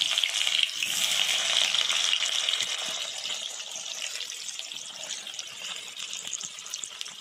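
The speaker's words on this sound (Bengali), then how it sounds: "এবার যাবে সেদ্ধ করে রাখা আলু" Boiled potatoes added to a hot frying pan of oil with whole cumin and onion, giving a steady, close sizzle and crackle that stays loud and slowly eases off.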